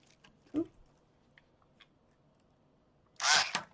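Scissors cut mesh ribbon from a roll for a wreath, a short snip early on, faint rustles, then a louder crisp slicing rasp near the end in an otherwise quiet room.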